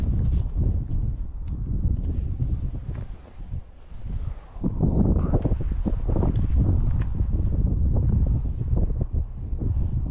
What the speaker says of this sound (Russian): ветер еще сильный, блин.